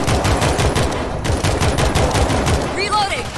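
Rapid gunfire rattles in dense, sustained bursts during a zombie-shooter co-op game, loud and close, with a brief lull mid-way and a short electronic chirp near the end.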